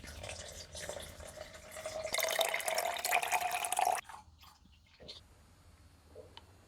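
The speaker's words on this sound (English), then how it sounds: "now pour in, I don't know, maybe 300 or 400 millilitres of warm water." Warm water is poured into a container holding sugar for homemade hard pink lemonade, a splashing fill that swells louder for a couple of seconds, then cuts off into faint drips and light handling knocks.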